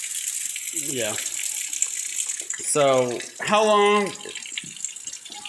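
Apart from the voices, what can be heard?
hot water running from a tap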